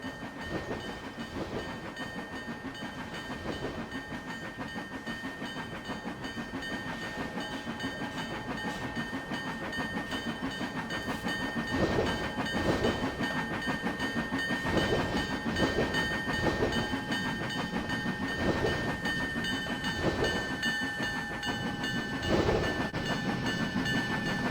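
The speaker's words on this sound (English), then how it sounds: "3879 powered oil train pulls into the yard with a special surprise." A 3879-powered oil train, a 314 class locomotive, pulls into a rail yard in Cincinnati with steady rumbling and clickety-clack of wagons over the rails, a sustained high tone running throughout, close and continuous.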